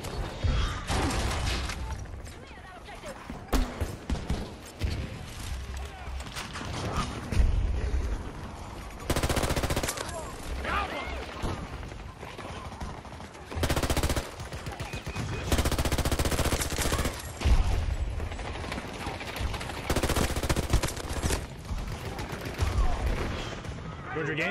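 Gunfire in the shooter Battlefield 2042: repeated loud bursts of automatic fire and single shots break out again and again over a dense battlefield din, with some short pauses between volleys.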